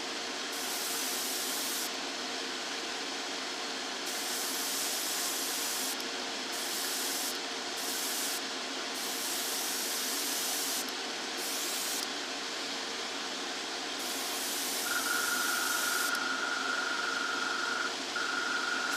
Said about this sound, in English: It's my first real time spraying these colours, and I want to try and make as good a job as I can of it.